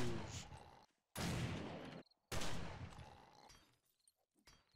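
Bursts of gunfire from a distant shooting range in the survival game 7 Days to Die, arriving as two or three dense, noisy volleys separated by short gaps and fading out into quiet.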